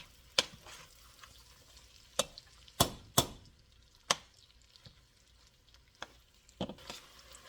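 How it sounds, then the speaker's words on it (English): Gooey date-nut mixture cooking on medium heat, stirred with sharp spoon scrapes and knocks against the pan at irregular intervals over a faint sizzle, fairly close and without talk. "So I'm cooking mine on medium and stirring a lot."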